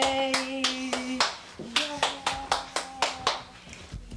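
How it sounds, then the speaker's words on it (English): A small child clapping hands at a supermarket, about a dozen sharp close claps in an uneven rhythm, with a few brief vocal sounds between them. "Clapping his hands at the supermarket."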